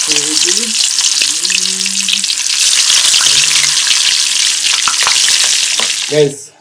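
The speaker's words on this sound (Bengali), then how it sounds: "তেলটা গরম হয়ে গেছে এবার হচ্ছে কই মাছগুলো আস্তে আস্তে" Koi fish (climbing perch) fry in hot oil with a loud, dense, continuous sizzle and spatter, very close. The sizzle ends in a brief clatter near the close.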